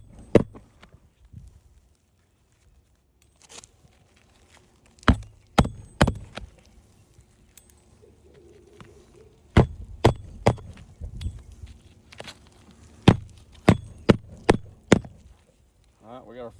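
Fasteners are nailed into roof shingles in sharp, loud hits that come in quick bursts of two to four with quiet gaps between.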